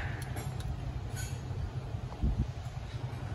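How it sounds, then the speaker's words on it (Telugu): A goods train running on a single track near Araku gives a steady, loud low rumble of rolling wagons throughout, with faint higher squeals and clicks above it. "ఫస్ట్ ట్రైన్ చూస్తే ఇప్పుడే గూడ్స్ ట్రైన్, అది కూడా కాకుండా సింగిల్ ట్రాక్ అనమాట"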